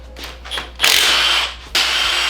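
A power tool, likely an impact gun loosening bolts on a Mazda Miata with an LS engine swap, whirs in two bursts, a short loud high-pitched spin, a brief pause, then another, preceded by a few faint clicks and clanks nearby.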